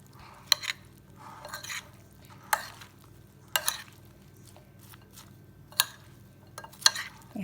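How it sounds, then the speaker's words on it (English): Salad being tossed with salt and masala seasoning, giving soft, scattered rustling strokes and a few sharper clinks of utensil against bowl, close and fairly quiet over a faint low hum, with no talking. "I'm just going to mix everything."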